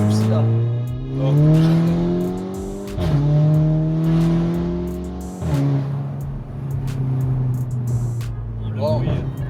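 A stage 2 Volkswagen Golf GTI engine revs hard nearby, climbing repeatedly in pitch through upshifts with sharp drops between gears and a deep throaty roar, while voices chatter over it.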